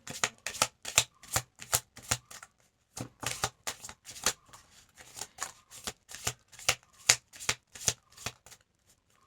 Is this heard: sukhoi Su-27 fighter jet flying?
no